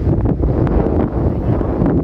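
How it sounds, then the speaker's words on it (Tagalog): Steady wind buffeting the microphone on Mount Nebo in Jordan, a low rumbling roar with gusty rustle throughout, close and fairly loud. "Hangin, oh."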